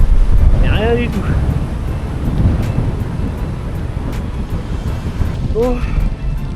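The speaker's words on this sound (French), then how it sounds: "dès lors que les arbres partent, tu te tapes des rafales, tu n'avances à rien" Strong wind gusts roar and buffet the microphone steadily while cycling on an open road after the tree cover ends, a constant loud low rumble with a couple of brief whistling tones.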